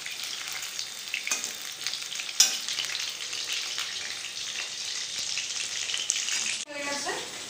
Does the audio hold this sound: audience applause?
no